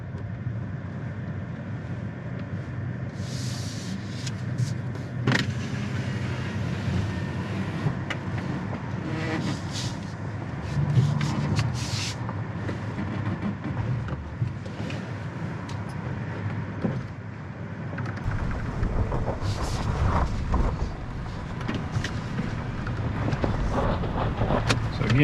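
A 2024 Toyota Tacoma Limited crawls off-road in 4-low, first gear, with a low engine drone mixed with wind buffeting and scattered bumps and rattles from the rough trail. No one speaks.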